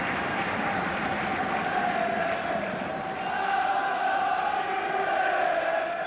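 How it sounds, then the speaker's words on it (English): A football crowd at a Rotherham versus Chelsea match, chanting and roaring as a sustained distant wash of massed voices with a rising tonal chant. "Come on, you Reds, shout the crowd"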